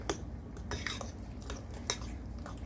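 A utensil stirring potato cake batter in a bowl, soft repeated scrapes and a few light clinks against the bowl, close and quiet, with no talking.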